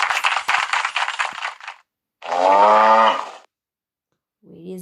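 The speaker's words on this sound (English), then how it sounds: "This is a cow." A cow lets out a single drawn-out, low moo after a burst of rattling noise, with another faint low sound starting at the end.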